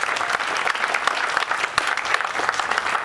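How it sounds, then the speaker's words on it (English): A studio audience breaks into a steady round of applause during an interview with a country singer, dense clapping sustained for the whole stretch with no talk. "give you a round of applause."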